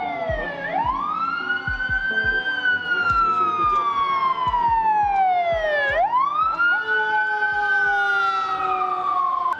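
A fire engine siren wails loudly as it passes along a city street in Los Angeles, its pitch sweeping up and down in long cycles over rumbling traffic, close and continuous throughout.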